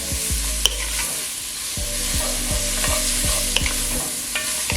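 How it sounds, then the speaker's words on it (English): Onions sizzle in olive oil and butter in a Dutch oven, a steady close hiss of frying broken by repeated scraping and knocking strokes as they are stirred. "We're gonna start sweating our onions."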